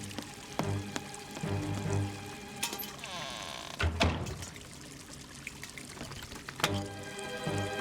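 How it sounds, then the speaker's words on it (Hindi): Water poured and splashed out of a bucket in a Fireman Sam cartoon scene, several sloshing pours at a steady pace, close and moderately loud amid light background music and effects. "मैं पानी निकालने के लिए वो बकेट यूज कर सकता हूँ"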